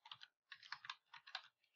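Quick bursts of clicking keystrokes on a computer keyboard while entering names into an Excel spreadsheet, close and fairly quiet, in short irregular clusters separated by brief pauses.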